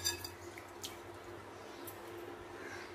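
Rice being rinsed in water for a coconut rice dish and then drained, giving faint, close dripping and trickling with soft splashes over a quiet background.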